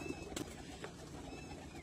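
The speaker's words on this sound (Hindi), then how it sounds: "ये कबूतर आया बड़ा देसी सा" Soft, low coos of a desi pigeon on a rooftop in Hafizabad, heard faintly against a steady background hum, with no voices present.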